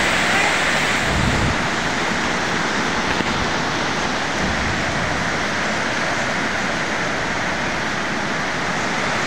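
Heavy rain pouring down in a steady, dense broadband wash that stays loud and close for the whole stretch, with no voices over it.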